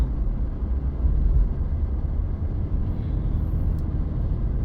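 A vehicle towing a rusty used trailer cruises down the road at about 55 mph, a steady, loud low-frequency road rumble and engine drone persisting throughout with no voices.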